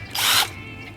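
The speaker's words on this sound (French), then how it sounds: "une perceuse" An electric drill whirs in a short, loud burst lasting under half a second, then winds down, close by in a workshop.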